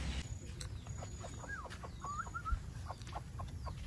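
Soft clucking calls from junglefowl, with a couple of rising chirpy notes, over a steady low rumble of background noise.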